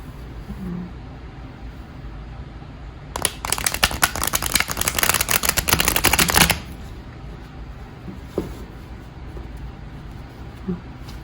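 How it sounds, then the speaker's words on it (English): A deck of tarot cards is riffled and shuffled in a rapid, crisp burst lasting a few seconds, close by, with quiet room noise before and after. "I guess I will try and shuffle it so you can kind of see."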